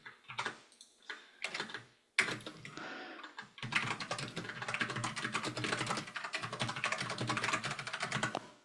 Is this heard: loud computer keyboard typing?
yes